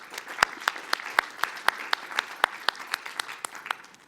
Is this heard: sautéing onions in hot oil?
no